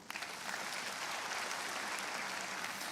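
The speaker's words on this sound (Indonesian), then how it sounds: "Tepuk tangan untuk Tuhan" A church congregation applauds together, a dense, steady wash of clapping that fills the room evenly for a few seconds with no voices over it.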